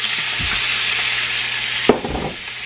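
Butter melting with garlic, lemon juice and spices in a hot pan gives a steady, close sizzle and frying hiss, with a couple of stirring scrapes and a sharp clink of a utensil near the end.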